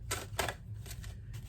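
A few quick papery riffles of cards being shuffled, short crisp bursts close by over a low steady hum.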